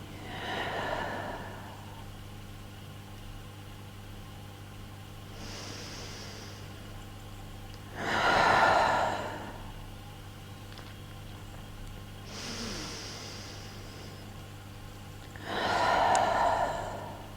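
Slow deep breaths during a breathing exercise: three or four long, soft inhale-exhale swells spaced several seconds apart, close and quiet over a low steady hum, with no talking.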